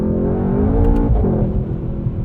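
A Mercedes-AMG GT 63 S in rear-wheel-drive drift mode revs hard up close, its engine a loud, deep, rising growl with a brief tire chirp partway through.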